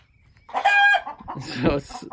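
A backyard flock of chickens clucks and squawks loudly at bedtime, with one bird letting out a strained crow-like call, close and noisy in bursts.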